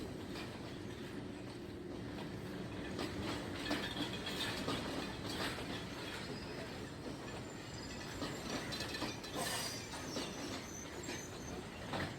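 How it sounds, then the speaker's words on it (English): A Canadian Class M4 diesel locomotive rolls steadily past on Sri Lankan railway track with a continuous rumble, rhythmic clatter of wheels and occasional metallic squeal, loud and sustained throughout. "the Canadian Class M4 locomotive we mentioned in the previous video, heading back to its yard"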